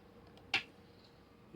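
One sharp hand clap rings out close up against a quiet room, a brief crisp snap that fades quickly.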